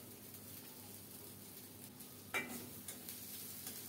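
Grated coconut frying in mustard oil for khichuri, a quiet steady sizzle in the pan with a sharp scrape of stirring midway and a few faint clinks after.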